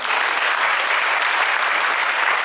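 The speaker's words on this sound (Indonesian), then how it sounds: "Tepuk tangan buat kita semua." Dense, steady applause from a seminar audience, a continuous wash of many hands clapping at even loudness with no speech.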